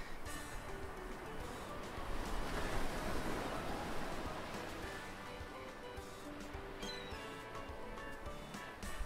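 Surf rolls in a steady broadband wash in a visual novel game, swelling slightly in the middle and staying continuous, with no voices over it.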